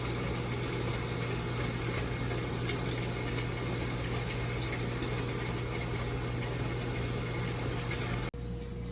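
A grinder blends butter chicken gravy ingredients into a fine paste, its loud steady motor whirring continuously at close range before cutting off abruptly near the end.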